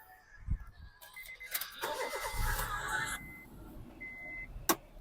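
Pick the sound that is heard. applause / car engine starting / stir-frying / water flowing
car engine starting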